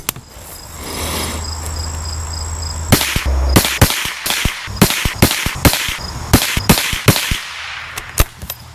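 A .22LR rifle firing CCI Mini Mag 36-grain rounds outdoors, heard as a string of sharp, closely spaced reports in irregular rapid succession over steady insect chirping.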